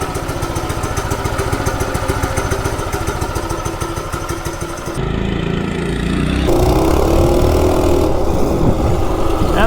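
A Coleman RSV minibike with its stock 196cc engine runs loud and close, a steady rapid putter that shifts to a rougher, fuller roar partway through as the throttle changes.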